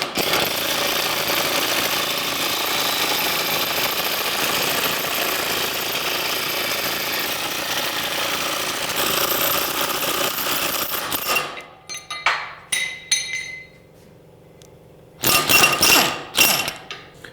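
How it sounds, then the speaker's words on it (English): Pneumatic air tool hammering loudly and continuously to press a worn suspension bushing out of a 1950 Chevrolet's rear suspension, a long close rattling burst followed by short bursts separated by quiet. "I'm going to use some air as a press, because I don't have a press right now, to get this out of here"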